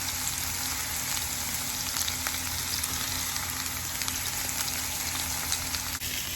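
Onions sizzle steadily in olive oil in a pan for albondigas soup, a loud, continuous, close frying hiss with faint crackles and a brief clatter near the end.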